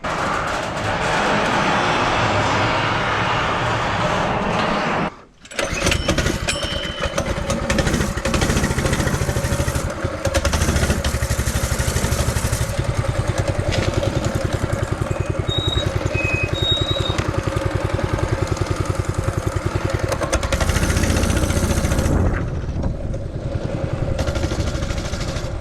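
A Motovox minibike fitted with a Honda GX200 small engine running loud and close on a test ride, steady buzzing drone with a brief cutout, then revving up and settling again.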